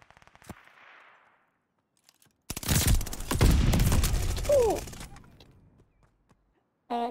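Rapid bursts of turret gunfire in a video game, a dense loud volley lasting about two and a half seconds, with a short burst near the end and faint game sounds before.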